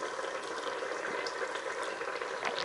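A pot of South Indian fish curry at a steady boil, a continuous close bubbling hiss with small pops and no voices.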